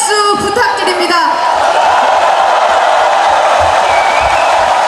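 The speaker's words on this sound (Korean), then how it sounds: "뜨거운 함성과 응원의 박수 부탁드립니다" At a Democratic Party joint presidential-candidate rally in Chungcheong, an amplified announcer's voice opens the moment. A loud, broad roar of crowd cheering and applause then swells and holds steady to the end.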